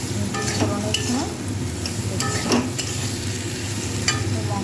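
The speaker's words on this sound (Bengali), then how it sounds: "এটাকে ভালো করে কষিয়ে নেব" Spices fried and stirred in a pan, giving a steady close sizzle with scraping spoon strokes at irregular intervals and no talk.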